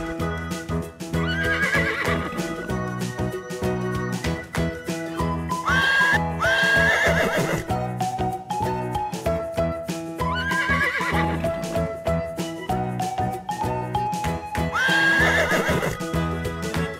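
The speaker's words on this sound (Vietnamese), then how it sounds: "Con ngựa." Hooves clip-clop in a steady, unbroken rhythm while a horse whinnies loudly again and again, three or four times at regular intervals, with no voices.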